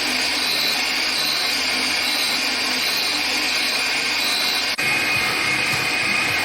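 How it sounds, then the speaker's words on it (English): A DIY endmill grinding attachment on a milling machine grinds previously machined surfaces of a metal workpiece, giving a continuous high whining hum with one brief dropout near the end. "The two previously machined surfaces are ground."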